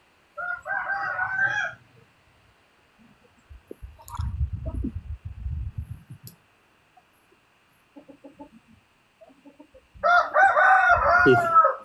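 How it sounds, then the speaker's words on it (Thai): Rooster crowing in two loud bursts, at the start and again at the end, with lower clucking chicken and fowl sounds in between, close by and with no talk over it. "เหมือนอยู่ซุ้มไก่เลยเนาะ"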